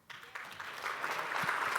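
An audience at a conference case study session applauds after a presentation, a soft, fairly distant patter of clapping that builds slightly and holds steady for under two seconds.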